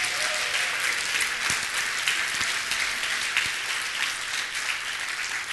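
Sustained applause from a large crowd, dense and steady clapping that fills the room for several seconds without letting up.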